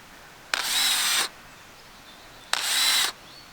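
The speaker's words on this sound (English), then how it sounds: "You drilling holes for plants?" A power drill bores planting holes in the ground, giving two steady whirring bursts of under a second each with a short pause between them. The drill is close and loud over faint outdoor background, and no one talks.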